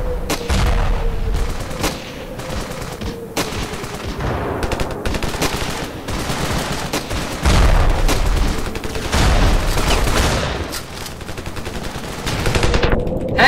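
Gunfire and explosions in the Ravenfield video game, including a grenade launcher, loud sharp bursts and booms repeating irregularly over a rumbling battle background, with little talk.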